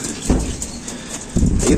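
Racing pigeons arriving home after a hard race, giving a couple of low flutters and soft bumps close to the microphone, with faint background noise between them.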